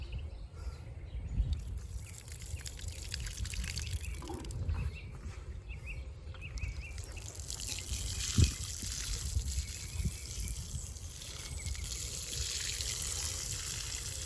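Water spills and trickles steadily from something set up the wrong way, with a broad continuous wash of running liquid and a few small knocks, close by and with no one talking.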